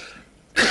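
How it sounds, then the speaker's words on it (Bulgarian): A single harsh, close cough from an elderly man bursts out abruptly at the very end after a short stretch of near silence. "Кашлицата ми е ужасна."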